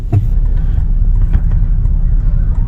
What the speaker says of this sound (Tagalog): na-traffic tayo dito sa palengke ng Villanueva